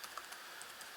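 Quick keystrokes tap on a computer keyboard while renaming a file, a short faint run of evenly spaced clicks heard close up.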